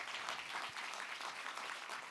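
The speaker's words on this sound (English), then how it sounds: "Let's give another round of applause for Tiger." Soft, distant crowd applause at a university science internship reunion, a dense continuous patter of many hands with no clear individual claps.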